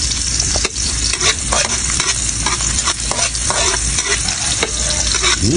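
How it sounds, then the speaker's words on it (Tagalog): Garlic and onion sauté in a pan for pork pochero, stirred constantly with a loud, close sizzle and repeated scraping strokes. "Halo lang ng halo. Habang iginigisa ang bawang at sibuyas."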